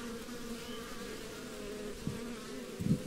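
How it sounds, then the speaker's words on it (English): Honey bees buzzing in an opened hive during a package bee install, a steady droning hum from many bees close by, with a couple of soft knocks near the end. "Lots of bees, excellent."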